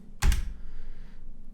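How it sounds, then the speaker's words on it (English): A single spacebar press on a computer keyboard, one sharp, close thump-click followed by a brief quiet tail. "Another easier way to pause the game is to hit the spacebar key."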